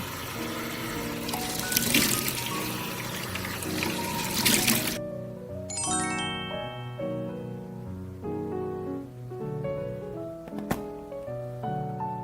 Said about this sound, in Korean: 물로 깨끗하게 세안합니다.